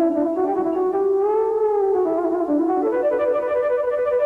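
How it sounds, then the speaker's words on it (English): SynthAxe guitar synthesizer playing a sustained, gliding lead tone with rich harmonics, bending slowly in pitch, loud and close and alone for about four seconds before cutting off. "All in all, the Synthax was a synthesizer."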